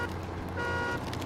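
Steady truck horn honk in the SnowRunner driving game, a sustained tonal blare lasting over a second, loud and continuous with engine rumble beneath.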